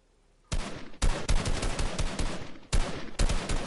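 Rapid bursts of automatic gunfire crackle loud and close in a video game, several sharp volleys separated by brief gaps, with no talk over them.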